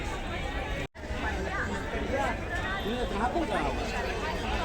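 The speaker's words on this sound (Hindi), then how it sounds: "ये देखिए नोवेल्टी एंड कंपनी के स्टॉल पर काफ़ी भीड़ है" Crowds chatter around the book stalls at the Patna Book Fair in Gandhi Maidan. The babble of many voices is steady and close, with one brief dropout near the start.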